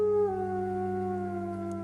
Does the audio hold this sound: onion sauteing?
no